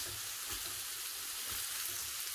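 Kale frying and stirred in a pan for stuffing, a steady soft sizzle with faint scraping underneath, fairly quiet and continuous with no voices.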